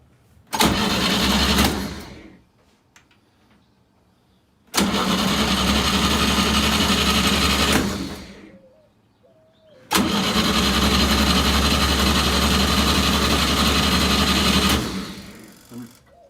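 A small engine is cranked with the key and choke on, in three separate bursts of about two, three and five seconds, loud and close, with short pauses between the attempts.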